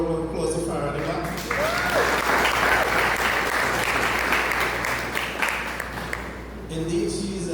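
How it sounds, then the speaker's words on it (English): Audience at a TTPost S42 address card relaunch community event in Guayaguayare applauds for Farah, a sustained burst of clapping that swells and holds for several seconds before tapering off, with a voice faintly under it. "I want to give a round of applause to Farah in the back"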